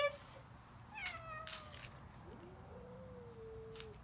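Several cats meow in a small group, a few drawn-out mews and short calls spread across the moment, close by and clear, with a person's soft voice briefly in the mix.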